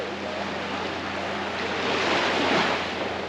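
Sea waves wash steadily onto a Caribbean beach, a broad continuous surf roar that swells slightly toward the end, with some wind noise and no voices.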